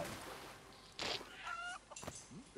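A cartoon chicken in the animated film Moana makes a few short clucks and a brief squawk over soft background score, with no talk.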